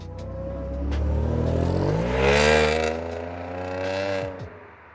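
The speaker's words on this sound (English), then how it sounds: "when you get up to the higher RPMs, it does get a little raspy" A car engine revs up hard to high RPM, its exhaust turning raspy and loud, then drops back, with no talking.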